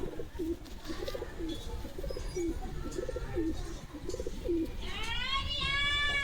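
Pigeons coo softly in a steady, repeating rhythm at a shop selling pigeons, with faint background noise and a brief higher whistle-like call near the end.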